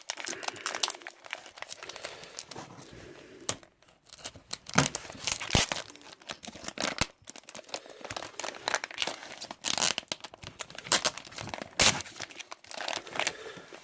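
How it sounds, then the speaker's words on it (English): A well-taped package of bullets is torn open by hand, giving repeated loud rips of tape and crinkling, crunching packaging in close, irregular bursts with brief pauses. "Let's open these up and see what we've got here. Very well taped up."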